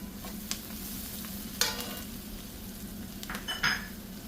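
Spices with pepper powder and turmeric being stirred in a pan for tomato rice: a low continuous sizzle with a few spoon scrapes and clinks, close and fairly quiet.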